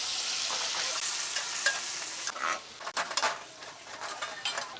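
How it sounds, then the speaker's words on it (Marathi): Chili and peanut paste hits hot oil with a loud, steady sizzle that breaks into crackling bursts and spoon scrapes, close by with no talking. "तेल तापलं आहे मिरची आणि शेंगदाण्याचं जे वाटण केलं होतं ते तेलात सोडूया"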